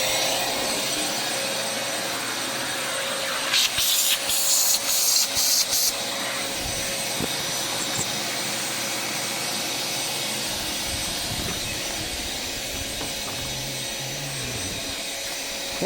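A Bissell garage vacuum runs loud and steady with a constant roaring whine while cleaning a 1995 Mercedes E300, broken by brief higher-pitched sucking bursts near the start.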